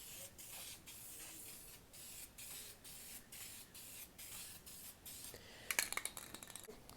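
A spray gun lays clear coat onto a warmed car headlight lens from a wrecked Mazda Miata, a steady close hiss pulsing in short regular bursts, followed by a few sharp clicks and taps near the end.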